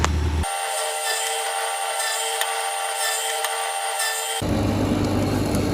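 A lathe turns an old Indian sandalwood blank into a bead, giving a steady, loud grinding whir with a constant high whine that holds for about four seconds before cutting off into low machine rumble.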